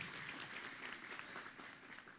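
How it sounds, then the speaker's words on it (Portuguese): Church congregation in Brazil clapping in a steady, dense round of applause, heard at a distance and fairly faint, with no voices over it. "Dá um forte aplauso para a igreja no Brasil."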